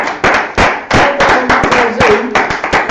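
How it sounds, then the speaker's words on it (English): A T'ai Chi class claps together after bowing, a run of sharp, loud hand claps in close succession with uneven rhythm, near and filling the room. "bow and give yourselves a clap"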